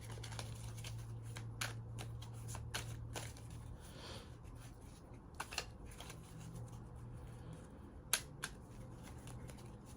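Tarot cards are handled and laid out during a reading. Soft, faint slaps and sliding sounds recur at irregular intervals over a steady low hum.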